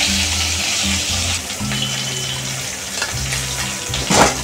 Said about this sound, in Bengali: মাছগুলো আমি হালকা করে একটু ভেজে দিই